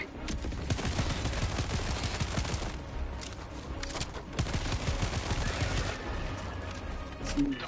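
Rapid video-game gunfire crackles in dense bursts, loud and near, with brief gaps between volleys and no clear talk over it.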